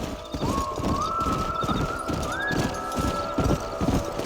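Horses in the Red Dead Redemption video game clop steadily at close range, hooves beating in an uneven rhythm under a sustained music tone, with a brief whinny-like swell partway through.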